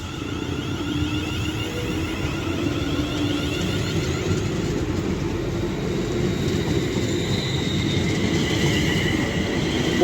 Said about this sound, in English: now getting ready to depart is 35254 working the 1340 London Northwestern Railway service to Birmingham New Street